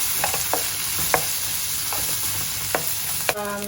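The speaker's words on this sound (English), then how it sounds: "Next goes in some grated ginger and some grated garlic. Another minute of cooking here." Grated ginger and garlic fry in a pan for a restaurant-style vegetable Manchurian, giving a steady, close sizzle broken by a few sharp spatula taps and scrapes, with a brief tonal sound at the very end.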